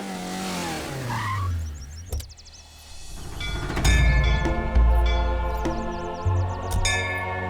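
A car comes to a stop with a loud tire squeal and skid, followed by rumbling engine and road noise, with faint bell-like tones over the top.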